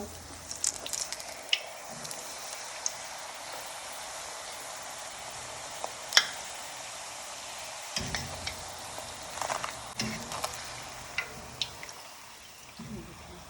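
Puri dough frying in hot oil gives a faint, steady sizzle with scattered small pops and crackles, heard quietly and up close in a home kitchen.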